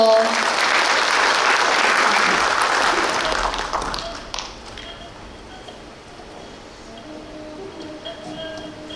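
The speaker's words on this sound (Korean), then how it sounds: "뜨거운 환호와 박수로 계속해서 축하 무대 이어가도록 하겠습니다. 큰 박수 주세요." Festival crowd applauding and cheering loudly for a fusion gugak band at an outdoor Baekje cultural festival in Buyeo, dense clapping that fades after about four seconds into quieter murmur and scattered claps.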